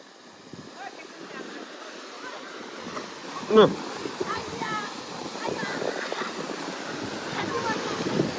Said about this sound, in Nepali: खतरा हावा चल्दैछ जाडोमा फेरि